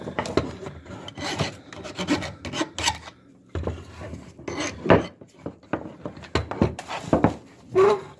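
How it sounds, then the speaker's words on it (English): A hand file deburrs a metal edge on a G-body fuel pump sender assembly with irregular rasping strokes close by, scraping bursts in uneven clusters separated by short pauses. "have a file. I'm just gonna deburr the edge a little bit"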